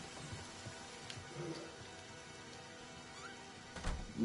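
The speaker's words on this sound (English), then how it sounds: "This is fancy, I love that it's raining." Steady rain falls in the Friday the 13th video game, a soft continuous patter with faint scattered drops and a brief low rumble near the end, all heard quietly at low level.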